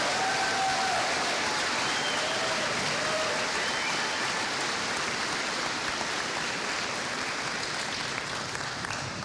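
A high school graduation crowd applauding the senior class in a large venue, a loud, sustained roar of clapping that stays dense and even for the whole stretch, with no voices on top.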